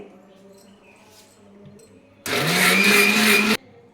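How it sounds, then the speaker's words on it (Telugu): A mixer grinder grinding masala roars to life for about a second and a half, a loud whirring grind rising slightly in pitch, then cuts off abruptly into quiet. "ఇదిగోండి మసాలా ప్రిపేర్ చేసి పెట్టుకున్నాను మిక్సీకి వేసి"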